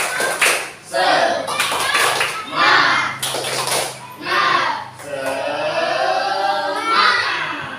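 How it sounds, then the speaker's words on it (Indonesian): Children in an Islamic religious lesson perform a rhythmic spirit clap, bursts of patterned clapping alternating with a teacher's and kids' voices, fairly close and loud. "Tapi sebelumnya, tepuk semangat."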